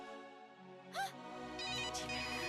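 A melodic phone ringtone chimes close by, tonal and repeating, with a brief chirping flourish partway through.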